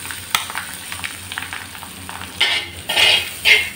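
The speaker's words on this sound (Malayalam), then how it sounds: "അരപ്പിട്ട് കൊടുത്ത് ഒന്ന് ഇളക്കുക" Ground paste stirred into a hot pan with dried red chillies for tender jackfruit thoran, a soft steady sizzle under light spoon scrapes, with a few louder bursts of frying near the end and no talking.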